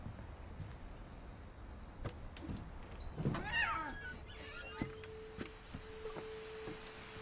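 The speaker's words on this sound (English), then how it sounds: "Did I just hear a cat?" A short cat meow rises in the middle of a quiet scene, with scattered clicks and a steady faint electronic tone, in the video game What Remains of Edith Finch.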